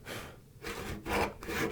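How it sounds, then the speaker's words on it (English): Hand saw cutting wood for a mitered bridle joint, close and fairly quiet, with three rasping back-and-forth strokes in a slow, careful rhythm. "I'm going to cut down to my stop line here."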